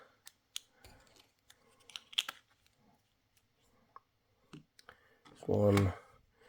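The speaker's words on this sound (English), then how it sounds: "These little capsules, they just have a little thing here. You just pop them apart." Plastic coin capsules for a Johnson Matthey Bill of Rights coin series are handled and popped apart, giving scattered sharp clicks and snaps, close and clear, with a louder rustling burst near the end.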